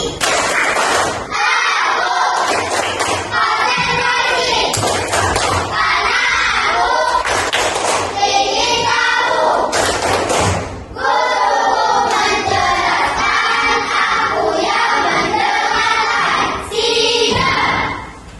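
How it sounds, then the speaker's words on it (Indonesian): A school class does a concentration clapping routine, loud bursts of rhythmic group claps and shouted chant from many children in a classroom, repeated in several rounds with short pauses between. "Tepuk konsentrasi."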